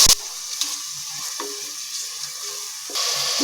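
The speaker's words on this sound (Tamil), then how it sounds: "இப்போ பச்சை மிளகா, தக்காளி சேர்த்து நல்லா வதக்கிக்கங்க" Onion, green chilli and tomato are sautéed with ginger-garlic paste for mutton biryani, a steady close sizzle opening with a sharp clatter, then a louder rush near the end as more is stirred in.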